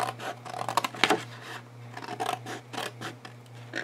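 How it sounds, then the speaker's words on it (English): Small scissors snipping through paper while an album page is trimmed, a run of short crisp cuts with rustling and scratching, close and fairly quiet, with a steady low hum underneath. "All right, so I'm going to use the smaller scissors."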